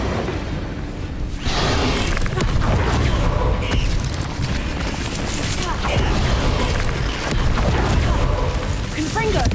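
Fire spell explosions in the Hogwarts Legacy video game, repeated booming bursts and whooshes with mechanical clatter, loud and busy, with a voice speaking between blasts.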